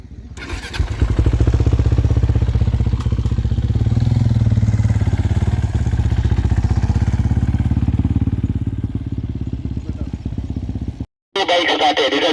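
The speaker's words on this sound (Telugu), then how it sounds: "Bike started." A rally motorcycle starts at a stage start and runs loud and close, a steady rough engine drone that fills the clip before cutting off abruptly near the end, followed by a brief different sound.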